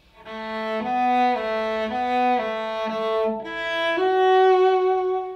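A cello plays a slow, bowed sequence of notes, each tone sustained and rich and stepping in a steady rhythm, heard close and alone.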